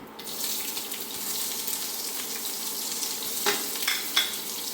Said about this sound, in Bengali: পেঁয়াজগুলি লাল করে ভাজবে